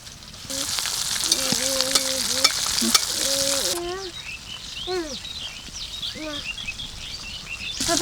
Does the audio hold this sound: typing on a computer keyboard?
no